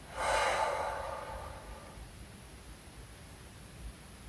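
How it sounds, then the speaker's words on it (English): A single deep breath out, close and breathy, starting strong and slowly trailing away into quiet. "and another deep breath in and out"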